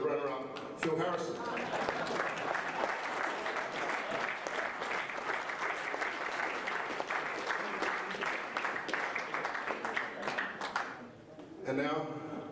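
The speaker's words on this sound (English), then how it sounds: "Big round of applause, ladies and gentlemen, for the runner-up, Phil Harrison." Sustained audience applause for the runner-up at a world championship men's individual final, a dense crowd clapping steadily for about ten seconds before tapering off, then briefly rising again.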